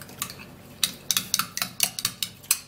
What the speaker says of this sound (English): Now after extracting the yolk, then I'll have to stir it all up also.